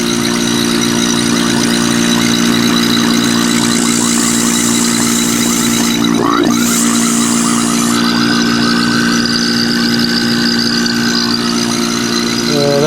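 A Marvac GA-271A vacuum pump runs continuously, a steady loud mechanical drone with a rhythmic pulsing hum as it draws in and blows out air, close up and alone.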